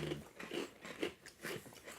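Several crisp bites into a crunchy wafer rice cracker, close and fairly quiet, about four sharp crunches in quick rhythm with no talk.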